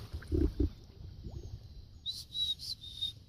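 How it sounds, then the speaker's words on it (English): Chickadees calling at a cold, windy canoe campsite, a few faint high whistled notes in a short series near the end, with low rustling and thumps earlier. "I love those chickadees, man."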